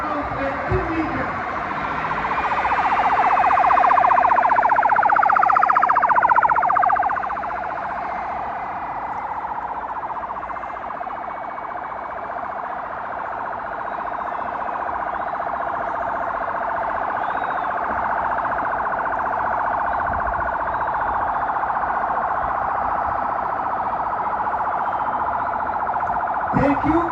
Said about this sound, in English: We have now proved that the siren and the roof lights are working.